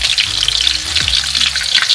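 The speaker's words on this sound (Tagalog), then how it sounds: "Kaya, prito natin for today's breakfast." Leftover roast chicken sizzles in hot oil in a home kitchen pan for breakfast, a close, steady crackling fry with a brief low knock partway through and no voices.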